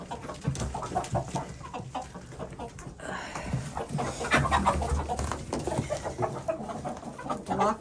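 Chickens cluck and squawk continuously at close range, several birds overlapping in a busy, restless chatter.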